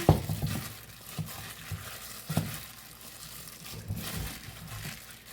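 Spices being mixed into butter for infused butter, heard as a soft, wet stirring and scraping close up, with a few sharper taps of a utensil against the pan, and no voices.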